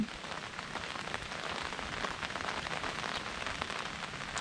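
Rain patters steadily on a tarp at a solo bush campsite in the Watagans, a dense, even crackle of drops close overhead with no voices.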